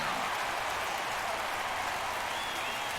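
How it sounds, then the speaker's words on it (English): A steady wash of crowd cheering and applause from an MLB The Show baseball game, a Toronto Blue Jays night game, roaring continuously and evenly throughout with no voices standing out. "The crowd's into it tonight"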